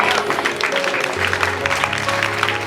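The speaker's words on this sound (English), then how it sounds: "Round of applause" A school audience at a girls' secondary school career event gives a round of applause, a dense, loud burst of clapping heard close up.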